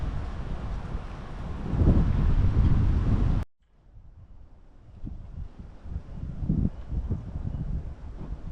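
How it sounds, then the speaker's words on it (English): Wind gusting outdoors at an off-grid cabin build site in spring, a steady broadband rush with buffeting against the microphone, loud for the first few seconds, then briefly cut off and returning softer with irregular low gusts. "it's a little bit windy"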